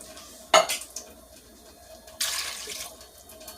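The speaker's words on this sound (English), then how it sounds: "get your string beans in the pot." Canned string beans tipped into a metal pot make two short, wet clattering splashes a couple of seconds apart, close by, against a quiet kitchen background with no talking.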